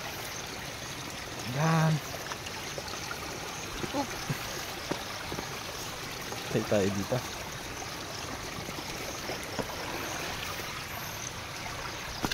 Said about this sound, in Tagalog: Isang agos ng tubig oh.